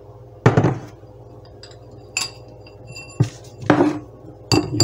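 Cauliflower tipped from a bowl into an Emeril Air Fryer 360 basket, heard as a few sharp clinks and clattering knocks against metal and glass, close and fairly loud, spaced by short pauses.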